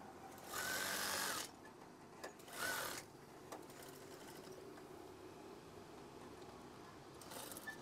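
A sewing machine stitching the bottom hem of a curtain, two short loud runs of rapid stitching separated by a pause, then quieter handling noises.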